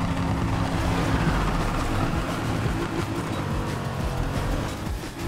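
Need for Speed Heat night-race car audio: a steady, loud engine roar with low rumble and hints of tyre noise, continuous throughout with no voices.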